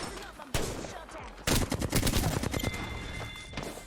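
Rapid automatic gunfire hits a training dummy in Apex Legends on Nintendo Switch, loud sustained bursts of shots with a brief pause between them.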